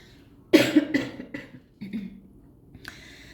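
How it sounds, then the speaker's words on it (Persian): A series of harsh coughs in a burst, loud and close, with a few fainter coughs trailing after and a brief noise near the end. "عذرخواهی میکنم سرفه هم هنوز خوب نشده"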